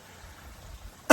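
A person who is ill clears their throat once, a short, loud, harsh rasp arriving abruptly after near silence.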